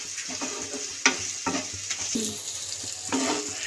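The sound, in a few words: stirring turmeric and Kashmiri chili powder in a frying pan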